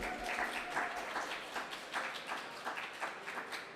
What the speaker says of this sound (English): A round of applause would be appropriate right now.